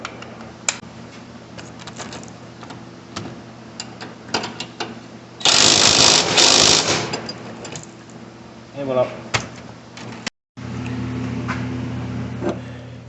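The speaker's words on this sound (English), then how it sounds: "And now we're tightening my 19mm at the bottom." A ratchet wrench tightens a 19mm bolt at the bottom of a Subaru gravel rally coilover, with clicking mechanical strokes and a loud burst of cranking midway, amid workshop noise and someone talking.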